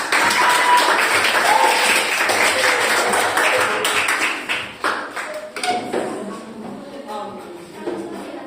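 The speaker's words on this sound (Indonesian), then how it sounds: "Beri tepuk tangan untuk kelompok 3" Primary-school pupils applaud a classmate group in their classroom, a dense burst of hand claps that thins into scattered taps and shuffling as it fades out.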